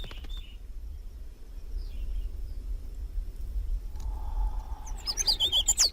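Galapagos mockingbirds give a few short, thin chirps in open island terrain near tortoises, faint early on and then a sharper, closer flurry of calls at the end over a low steady rumble.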